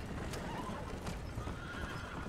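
Horses in the Red Dead Redemption video game neigh and whinny over a dense, noisy game background, with hoof clip-clop mixed in across the short stretch.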